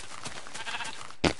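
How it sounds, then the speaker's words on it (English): Minecraft sheep bleating in the game, a wavering bleat followed by a sharp sudden click or thud near the end, fairly quiet overall. "Hey, sheep."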